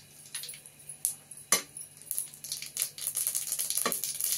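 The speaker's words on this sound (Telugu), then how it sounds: "నూనె వేడెక్కిందండి. 2 నిమిషాలు అయింది నూనె పోసి. 1 స్పూన్ ఆవాలు వేసినాను." Mustard seeds are dropped into oil that has heated for two minutes. They crackle and pop in sharp, irregular bursts close by, growing busier toward the end, with no one speaking.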